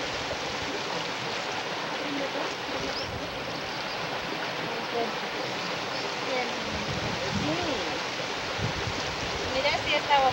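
Water rushing steadily at the Japuma dam reservoir in Pacajes, a broad continuous roar of flow heard up close, swelling slightly louder toward the end.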